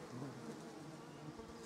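Honeybees at a hive in a garden apiary hum in a faint, steady, low buzz, continuous and close-sounding for a short moment.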